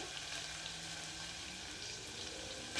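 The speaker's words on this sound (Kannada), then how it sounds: "ಇದನ್ನು ಫ್ರೈ ಮಾಡ್ಕೊಳ್ಳೋಣ" Tomatoes with red chilli powder fry for an Udupi-style sambar, giving a steady, dense sizzle that holds at an even level throughout, close by, with no talking.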